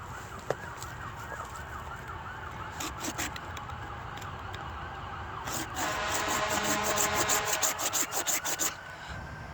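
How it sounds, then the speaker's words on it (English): Steady traffic rumble from a nearby highway and local street carries on throughout, with a wailing siren passing early and scraping and rubbing noises from work on a resin-rich fatwood stump growing louder over the second half. "I'm not too far from the highway and the local street on the opposite side."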